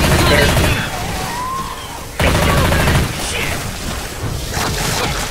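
Heavy booming grenade launcher blasts in the video game Left 4 Dead on the Crash Course campaign, loud and close with two strong explosive hits and lingering rumble, with voices talking over them.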